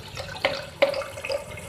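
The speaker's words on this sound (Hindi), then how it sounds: "देखिए ये ऑटो कट नहीं हो रहा, पानी चल रहा है" Water running steadily into a toilet cistern whose ball cock fails to shut off, a faint continuous trickle and splash with a couple of brief louder gurgles, no voices.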